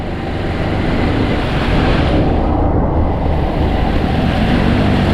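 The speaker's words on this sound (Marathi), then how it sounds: "हे बघा लाटा बघा लाटा बघा लाटा बघा अलिबागच्या लाटा." Floodwater waves surge and wash continuously through flooded streets of Alibaug, a loud, steady rushing roar with no clear breaks and no talking.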